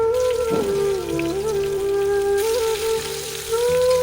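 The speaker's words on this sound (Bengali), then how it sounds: "দিয়ে দিচ্ছি কয়েক টুকরো পেঁয়াজ।" Onion pieces and green chillies hitting hot oil, a dense crackling sizzle like rain on a surface, with a steady kitchen hum beneath.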